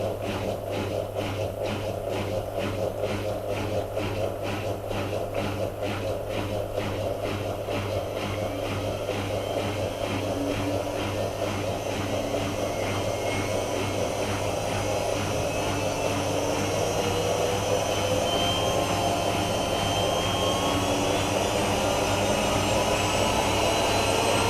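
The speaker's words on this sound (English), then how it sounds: "That will do a spin at 1600 RPM." A Miele W5748 washing machine spins up toward 1600 RPM, a loud continuous whine and whoosh with a rhythmic drum flutter early on that smooths into a rising, steady high-speed hum.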